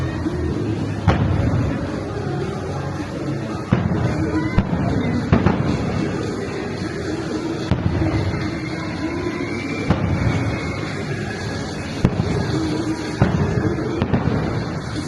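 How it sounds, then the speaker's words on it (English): Disneyland's nighttime fireworks show over the Rivers of America booms repeatedly, sharp distant bursts popping at irregular intervals over a continuous crowd murmur. "this is the spot for the nighttime fireworks show"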